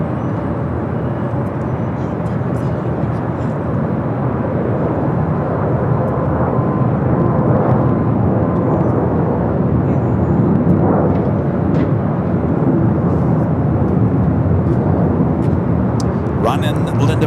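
An Airbus A321neo arrives at LAX from Dallas Fort Worth, its engines a continuous, moderately loud jet roar with a steady wash of noise throughout.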